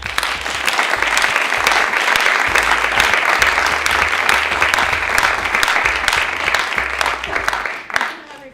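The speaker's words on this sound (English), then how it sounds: "Can we have a applause?" A crowd at a 2018 Maryland gubernatorial candidates forum applauds loudly and steadily for about eight seconds over a low room hum, then the clapping cuts off abruptly.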